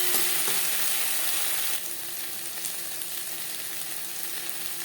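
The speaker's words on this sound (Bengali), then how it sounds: "বেগুনের সাথে মশলাটা ভালো করে মিক্স করে দেবো।" Eggplant stir-fried with ginger paste and green chili paste in a pan, for a low-oil eggplant and pabda fish curry, gives a steady close hiss of frying that eases slightly partway through, with no voices.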